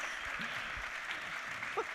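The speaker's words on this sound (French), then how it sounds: "Très bien, bravo, on peut les applaudir." Faint, distant applause from an audience at an institutional New Year's greetings ceremony, a soft continuous patter of clapping heard low and steady for two seconds with a few louder claps near the end.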